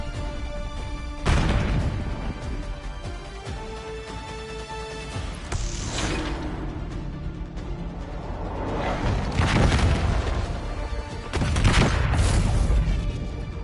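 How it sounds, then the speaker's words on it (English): Grenades explode in a Call of Duty: Black Ops 6 multiplayer hardpoint match, heard as a few muffled blasts swelling out of a dense, steady bed of game sound and music. "Whole match, there's just nothing but grenades."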